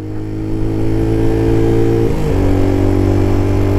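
A Peugeot PM01 125cc motorcycle engine revs up close and loud, its steady drone climbing in pitch as it accelerates, with a brief shift midway.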